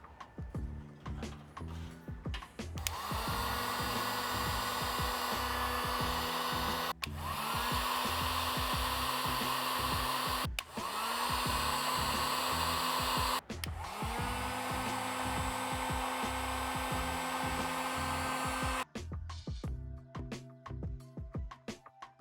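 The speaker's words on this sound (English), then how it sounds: "we're gonna be using this heat gun to go ahead and shrink those sleeves that we put on" A heat gun shrinks wire sleeves while repairing a turbo EGR connector on a 10th-generation Honda Civic: a loud, close blowing roar that runs in several long bursts separated by brief switch-offs, with handling clicks before and after; no talking.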